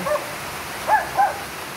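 A couple of faint, distant dog barks sound over a steady outdoor hiss on a rainy-season afternoon street, spaced closely together and quiet.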